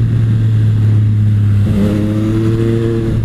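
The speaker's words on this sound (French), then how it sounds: "Le moteur tourne très très bien." A Triumph Street Triple 765 RS motorcycle engine runs close and loud, holding a steady idle before rising into a rev with climbing, layered tones, with no talk over it.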